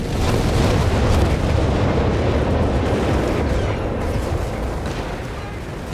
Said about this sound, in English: It is the incendiary bombing run here.